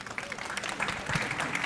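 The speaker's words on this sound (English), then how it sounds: "can we have a round of applause for the panel?" An audience at a venture investing conference applauds a panel of speakers, a steady wash of many hands clapping that grows slightly fuller, with some voices mixed in.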